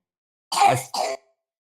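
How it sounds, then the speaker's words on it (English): A child gives two rough coughs close by, one longer and one short, with silence before and after. "my son is coughing"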